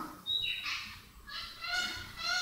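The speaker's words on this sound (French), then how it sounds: "L'oiseau, visiblement, est d'accord, il est assez enthousiasmé." A bird gives repeated loud, honking goose-like calls, several in a row over steady background noise.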